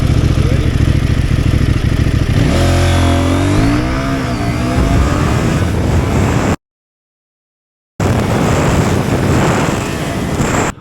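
CFmoto 800NK motorcycle accelerating hard from a standstill, engine climbing steeply in pitch through several gear changes, loud and close, with a brief gap of silence before the engine roar resumes at high revs.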